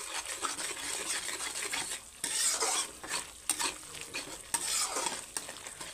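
Masala is stirred and fried in a pan with steady sizzling and scraping strokes, a few louder metallic scrapes of the spoon breaking through, close and continuous.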